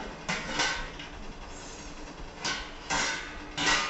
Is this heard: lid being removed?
yes